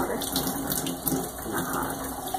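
Warm tap water gushes steadily into a bottle, loud and close for a couple of seconds, without talk.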